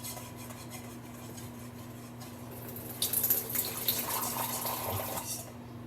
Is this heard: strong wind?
no